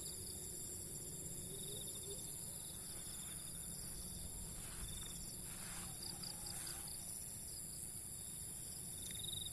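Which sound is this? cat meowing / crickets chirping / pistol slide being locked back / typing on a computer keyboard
crickets chirping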